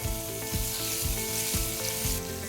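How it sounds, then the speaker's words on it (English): Garlic and bay leaf sizzle in olive oil in a pan, a steady loud frying crackle with a rhythmic low thumping pattern running throughout and no voices. "Some olive oil into the pan, followed by some garlic, bay leaf,"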